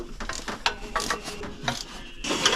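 Exhaust nuts being tightened on a Toyota MR2, with a run of ratcheting clicks and metallic rubbing in short bursts, close up and fairly quiet, no voices.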